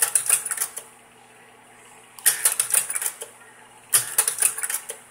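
Kodak Carousel 650H slide projector clicking as it advances slides, three clusters of rapid clattering mechanical clicks separated by quiet pauses over a faint fan hum.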